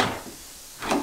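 A newly assembled dresser's drawers being pushed shut, giving two soft wooden knocks, one at the start and a louder one near the end, with a quiet pause between.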